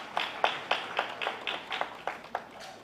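An audience claps in a steady, rhythmic pattern of about ten evenly spaced claps at moderate volume, with no talking over them.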